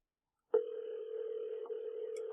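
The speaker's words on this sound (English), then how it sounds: "You can hear it ringing." An outgoing Google Voice call rings back after silence: a single steady tone starts abruptly and holds close and clear, with a brief dip midway and no speech.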